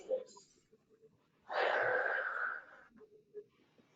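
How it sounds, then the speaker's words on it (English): A single long, wheezy breath drawn during a guided forgiveness session, loud and breathy for about a second, set between quieter, softer breath sounds with no talking over it. "And breathe."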